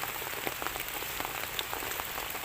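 Steady rain falls on the ground and foliage outdoors during a mushroom dig, a dense, even patter with scattered louder drops and no voices.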